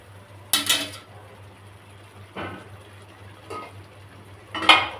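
A spoon stirs potato chicken curry in a pot, giving four quiet, separate scraping clinks spaced a second or two apart over low kitchen background hum, with no talking.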